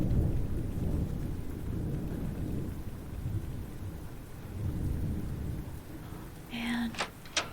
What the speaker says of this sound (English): That was such a nice thunder sound.